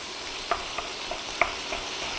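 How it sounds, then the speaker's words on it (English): Ground meat browning in a pan, stirred with a few light scrapes and taps against a continuous close sizzle. "I'm gonna get in there and just stir that a little bit more"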